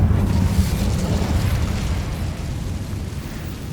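Incendio fire spell from the video game Hogwarts Legacy, a dense roaring blast of flame that holds loud and steady for a few seconds without fading.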